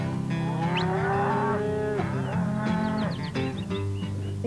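Cattle lowing outdoors: several overlapping moos from a herd of cows, drawn-out calls rising and falling one after another, close and fairly loud with no talking.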